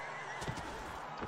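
A horse whinnies faintly in the medieval combat game Mount & Blade Warband, a brief neigh amid a low, continuous battle din with a couple of dull thuds.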